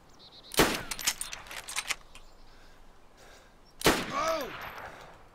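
Two sharp, loud gunshots ring out close by a few seconds apart, each followed by a ringing echoing tail, with faint clicks and rattles between them.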